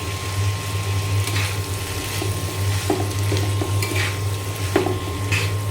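Frozen tomato dropped straight from the freezer into a pot of cooking chickpeas for khichuri, stirred in with steady sizzling and a few spoon scrapes and clinks against the pot, close and continuous.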